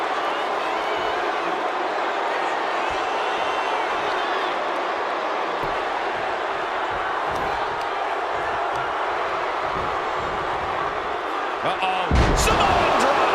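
A Samoan drop slam in the wrestling video game WWE 2K25, with Yokozuna against Hulk Hogan: a continuous arena crowd roar under voices, ending in a single heavy, loud impact thud.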